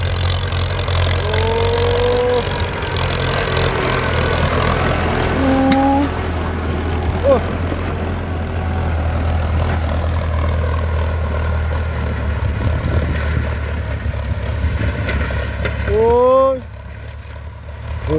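A Ford tractor's low engine drones steadily and loudly for a long stretch while working hard ground, with voices calling out over it, before the motor cuts off near the end.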